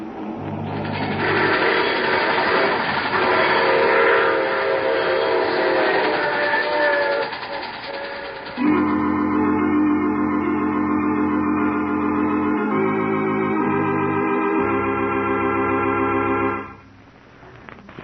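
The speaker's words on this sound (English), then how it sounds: "I take this same train every week at this time" Train-running sound effect from an old radio drama: a loud, steady rumble and rhythmic clatter with sustained whistle-like tones, shifting in character partway through before fading near the end, with no voices.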